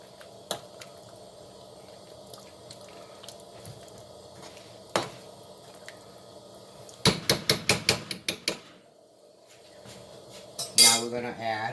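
A spoon clinks and scrapes against a pot of Spanish-style beef stew, with scattered taps and then a quick burst of several metal knocks, close and fairly quiet between hits.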